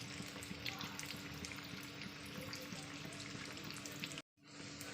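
Beef chops fry in oil in a home kitchen pan, giving a steady, close crackling sizzle that runs unbroken until a sudden brief cut near the end, then resumes.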